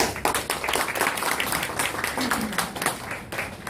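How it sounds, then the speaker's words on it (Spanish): Applause in a classroom or lecture setting on law and access to justice, a dense patter of clapping hands filling the short stretch at steady loudness, with no one speaking over it. "un fuerte aplauso para ti"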